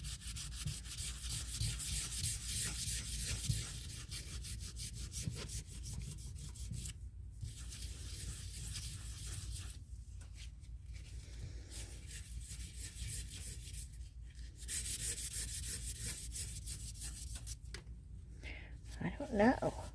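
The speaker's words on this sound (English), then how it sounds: "Does it look like it's coming through more when I sand it?" Sandpaper of fairly light grit rubs back and forth over a cast ResinCrete candle holder in quick scratchy strokes, broken by short pauses, with a voice talking over the sanding.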